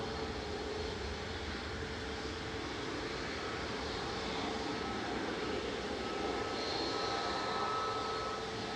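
An Airbus A330-300 airliner on short final approach at Manchester Airport gives a steady, broadband jet roar that holds evenly throughout, moderately loud, with no voices.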